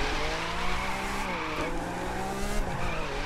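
A Lamborghini Aventador drift build in The Crew 2 slides with a continuous wavering tire squeal over a steady engine drone, loud and close throughout.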